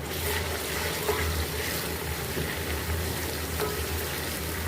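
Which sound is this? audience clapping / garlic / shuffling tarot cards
garlic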